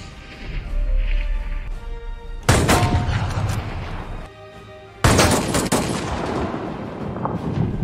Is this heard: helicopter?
no